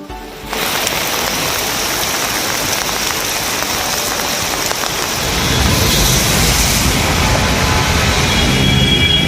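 Heavy morning rain falls steadily in Tiruchirappalli, a dense hiss of drops on surfaces that grows louder and fuller partway through, with no voices.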